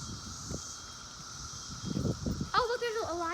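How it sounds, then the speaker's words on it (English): Cicadas buzz outdoors in a steady, faint high drone, with rustling and handling noise underneath and a brief voice-like sound near the end. "there are cicadas everywhere, and you can hear them really loud."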